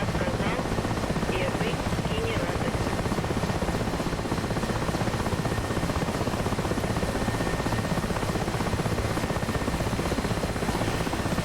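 Mi-8 helicopter heavy lifting in a snow storm, its rotor beating in a loud, steady, rapid thump throughout, engine roar close and unbroken.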